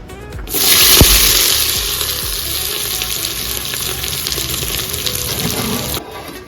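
Onions fry loudly in hot oil in a pan for a Telugu goat-head curry, starting as a sharp burst of sizzling and settling into a steady, close crackle with no talking.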